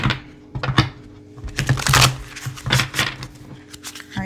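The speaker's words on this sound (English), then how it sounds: "I was shuffling the deck so many times" A tarot deck is shuffled by hand in quick bursts of papery riffling and soft slaps of cards, irregular and close, with small pauses between passes.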